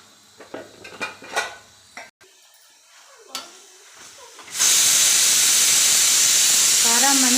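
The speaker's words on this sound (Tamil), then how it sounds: "நல்லா தண்ணி கொதிக்கும் போது நம்ம கீரையை சேர்த்திக்கலாம்." Water coming to a boil in a cooking pot for moringa leaf stir-fry: a loud steady steam hiss and bubbling fills the second half, after earlier clinks of pots and utensils and quiet kitchen sounds.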